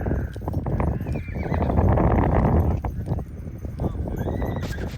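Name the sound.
mules walking and whinnying on a wagon train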